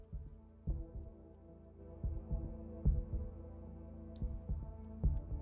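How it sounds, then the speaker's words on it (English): Constant heartbeat in a horror video game, a steady low double thump repeating about every second, quiet and alone over a faint background hum. "you can hear there's just a constant like heartbeat and shit"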